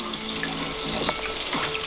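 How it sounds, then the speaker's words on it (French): Tap water runs steadily into a sink as fingers are rinsed beneath it, a close, continuous splashing flow with faint frying sizzle from banana fritters nearby. "Je me rince les doigts."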